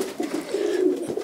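A racing pigeon in a loft coos in soft, low repeated pulses, close and moderately loud, with no talk over it.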